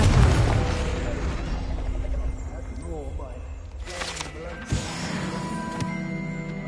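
Confringo fire-blast spell going off in Hogwarts Legacy, a loud booming burst that rumbles low and fades into a crackling tail, with a short sharp hit near the end.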